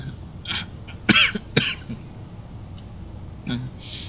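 Two sharp throat-clearing coughs in quick succession, close to the microphone, with faint breathing and soft mouth sounds around them.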